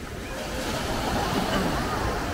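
Ocean surf at Coney Island beach, a steady close wash of breaking waves and rushing foam that stays loud and even throughout.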